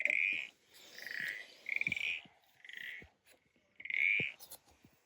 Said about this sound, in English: It's a froggy.